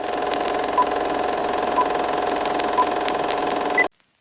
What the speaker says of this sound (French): un moteur qui tourne